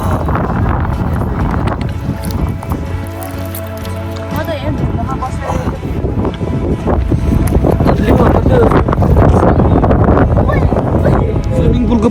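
Cold wind gusts steadily across the microphone at Blue Lake in Manang, a loud continuous roar and rumble that fills the whole stretch without pause.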